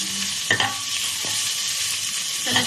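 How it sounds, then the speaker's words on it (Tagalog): Onions sizzle in a hot pan for bihon, with a constant frying hiss broken by a few sharp scrapes and clatters of a spatula stirring, close and without talk. "Ayan, ilalagay na ang sibuyas."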